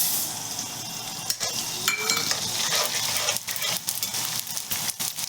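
Gond, an edible gum, fries in hot ghee over medium heat with a loud, dense sizzle and constant crackling pops, close up and unbroken, with occasional scrapes of a stirring spoon.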